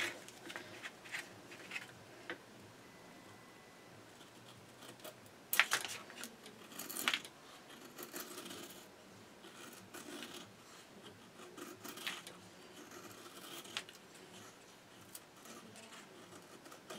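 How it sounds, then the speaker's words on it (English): A Steel Will Modus knife cuts through cardboard with repeated scraping, rasping strokes, close and fairly quiet, with a few sharper slices standing out. "I'm going to cut up a ton of cardboard."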